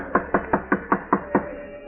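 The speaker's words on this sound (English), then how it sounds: "I'll knock." Seven evenly spaced knocks rap on a wooden door, firm and close, in a steady rhythm before stopping.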